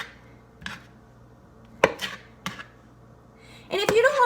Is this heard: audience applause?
no